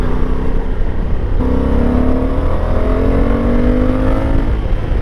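A Honda Africa Twin adventure motorcycle, a 2024 manual model with quick shifter, accelerates hard to overtake, its engine note climbing in pitch through a gear change, loud and close with steady road rumble underneath.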